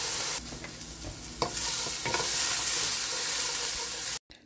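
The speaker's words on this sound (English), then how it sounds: "you're just gonna saute the peppers and onions for about 3 to 4 minutes until they start to get soft" Sliced peppers and onions sauté in a pan with a loud, dense, continuous sizzle, a few stirring knocks near the start, then steady frying until it cuts off abruptly.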